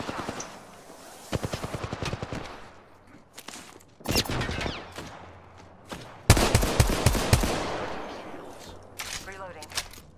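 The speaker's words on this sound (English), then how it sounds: "The enemies are shooting at me." Enemy gunfire in the Apex Legends battle-royale video game: rapid bursts of automatic shots crackle in several volleys with short pauses, some near and sharp, others more distant.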